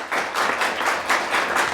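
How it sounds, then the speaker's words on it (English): An audience at a high school quiz bowl match between Carsonville-Port Sanilac and Gaylord St. Mary applauds both teams, loud close clapping that swells in rhythmic waves and carries on steadily from start to finish. "Nice round of applause for both teams."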